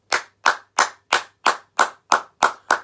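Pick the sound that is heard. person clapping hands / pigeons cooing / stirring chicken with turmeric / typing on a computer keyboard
person clapping hands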